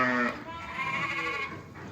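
Sheep and rams bleat from a flock of sori breed, with one prominent nearby bleat sweeping in pitch at the start and more wavering bleats continuing steadily behind it.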